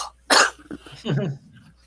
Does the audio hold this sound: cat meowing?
no